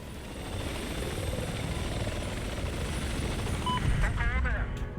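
Attack helicopter in Battlefield 4 on the Shanghai map, with a steady, loud rotor and engine drone throughout and bursts of gunfire near the end, while voices talk over the game.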